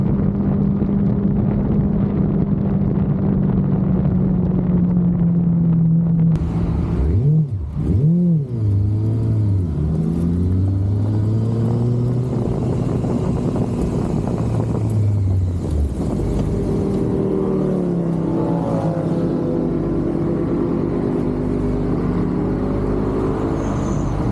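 A second-generation Yamaha YZF R6 sport bike engine is heard while riding. It has a loud, steady drone, and its pitch swoops down and climbs again as the revs drop and rise through the gears.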